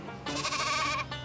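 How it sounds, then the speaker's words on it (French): One loud, close sheep bleat, a wavering, drawn-out call lasting about a second, stands over a quiet low background. "Avec des moutons!"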